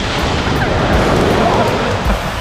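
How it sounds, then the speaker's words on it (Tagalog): Very high ocean waves at San Felipe, Zambales, a steady loud roar of surf and crashing water with wind buffeting the microphone throughout. "Tingnan nyo yung alon, napakataas yung alon."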